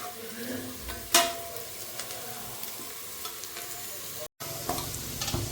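Food fries and crackles in a pan on a stove as it browns, with steady close sizzling, scraping stirs and an occasional clink against the pan.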